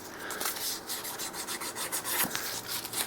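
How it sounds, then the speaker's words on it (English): Brass guitar nut being sanded by hand, a steady rubbing rasp with short repeated strokes, close and continuous with no talk. "brass is pretty soft, so you can sand this stuff pretty good"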